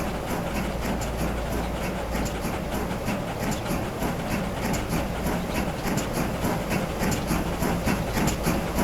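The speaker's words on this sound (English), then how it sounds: "back of the train is about to leave now" Train departing in the rail-simulation game Transport Fever 2: a steady rolling rumble with a faint, evenly spaced clickety-clack of wheels over rail joints, continuous and moderately loud throughout.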